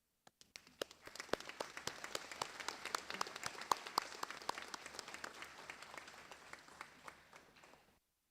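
Graduation ceremony audience at the Matawa Education & Care Centre breaking into sustained applause, many hands clapping densely for several seconds before fading out.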